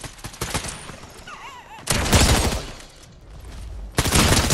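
Fortnite weapon fire: a quick rattle of shots, then two heavy bursts of gunfire about a second long each, loud and close, separated by a quieter gap with faint game sounds.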